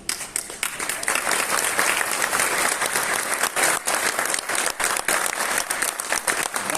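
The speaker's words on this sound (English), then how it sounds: "Give a round of applause to him." Sustained applause from an audience at a DXN direct-selling leadership event, dense steady clapping filling the room for several seconds, with a voice faintly underneath.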